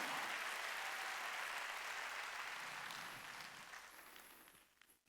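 A church congregation claps together in a broad, sustained wash of applause during a Sunday worship service. The applause fades out toward the end, and a sharp sound cuts in at the very close.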